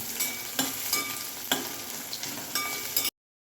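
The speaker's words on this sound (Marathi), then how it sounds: "आपण आता त्यामध्ये बारीक चिरलेला कांदा टाकून घेणार आहोत हा कांदा चांगला लाल होईपर्यंत परतून घ्यायचा" Finely chopped onion sautés in hot oil in a pan, with a continuous close sizzle and rhythmic scraping strokes of a spatula, then an abrupt cut to silence.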